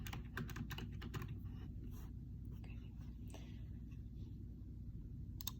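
Rapid computer keyboard typing, with dense irregular clicks and key taps running steadily throughout, close and soft, set against a low background hum.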